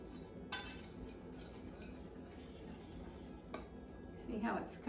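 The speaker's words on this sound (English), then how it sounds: "Gonna stir, and then I'll take my whisk and" Whisk scraping and stirring sweet potato pound cake batter in a bowl, a steady soft churning with occasional light clinks of metal against the bowl, under a low background hum.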